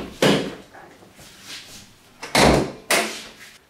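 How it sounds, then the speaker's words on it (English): A 2004 Honda Accord's hood being popped open, giving several sharp metallic clunks and thumps close by, spaced over a few seconds with quiet gaps between them. "Let's pop the hood and get started."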